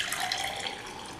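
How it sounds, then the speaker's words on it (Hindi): Freshly made watermelon juice, with no water added, streams steadily into a glass, a soft continuous liquid pour heard close and quiet. "अब मैं इसे डाल रही हूँ एक गिलास में"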